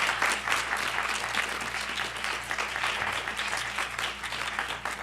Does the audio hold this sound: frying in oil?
no